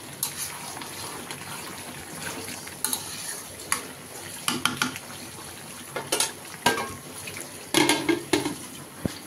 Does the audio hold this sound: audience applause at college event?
no